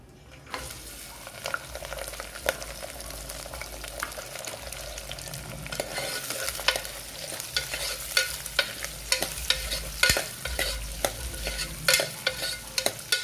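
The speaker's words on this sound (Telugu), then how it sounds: "తర్వాత ఉల్లిపాయలు నేను సన్నగా కట్ చేసుకున్నాను, పచ్చిమిరపకాయలు, కరివేపాకు ఇవి కూడా వేసేసుకుందాం." Onions, green chillies and curry leaves fry with spices in hot oil, giving a steady sizzle broken by repeated scraping stirs of a spatula against the pan, close and fairly quiet, with no talk.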